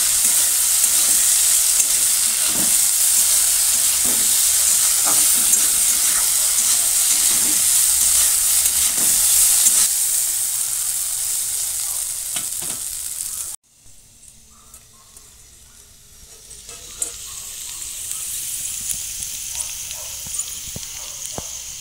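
Potatoes fry in a wok with a loud, steady sizzle and occasional stirring scrapes; the hiss drops out abruptly partway through, then returns more softly.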